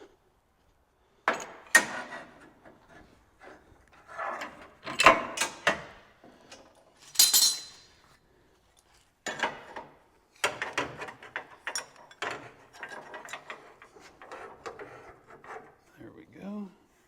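Clamps are fitted onto wooden pieces for a tray-bed, giving close, irregular knocks, wooden clatters and ratcheting, rubbing mechanism sounds in bursts with short pauses, and a voice briefly speaks near the end.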